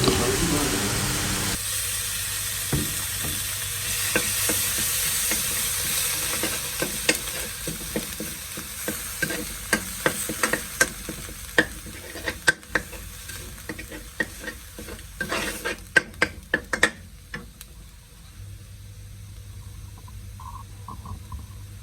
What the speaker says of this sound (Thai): ผัดไปเรื่อย ๆ นะครับ จนกว่าเขาจะหอมนะฮะ